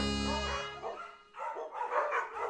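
Cartoon puppies from Curious George bark in a quick run of high, yappy yelps, close and fairly loud, with no talking over them.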